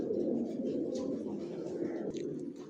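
Racer pigeons coo with a deep, rolling, continuous murmur close by, a few faint chirps and clicks sounding over it.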